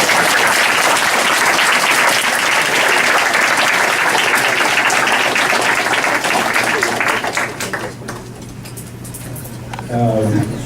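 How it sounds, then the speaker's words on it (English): A school audience gives a sustained round of applause for entrepreneurship students, dense clapping that stays loud for several seconds before tapering off, followed by a brief voice. "we can get one more round of applause for the entrepreneurship students"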